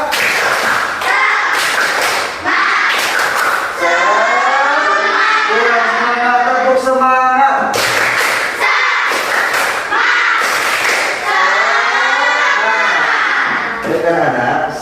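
Sixth-grade schoolchildren in an elementary classroom perform a spirit clapping chant: loud rhythmic bursts of group claps alternate with sung, chanted voices across the whole stretch.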